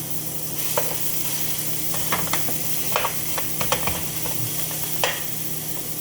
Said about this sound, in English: And then you just brown the ground beef.